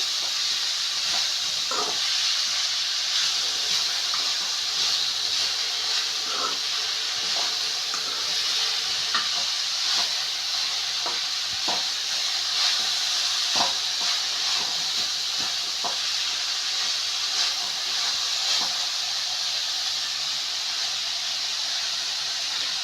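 Cabbage poriyal sautéing in a pan, a constant steady sizzling hiss with scattered soft clicks and scrapes as it is stirred, even and continuous throughout with no voices.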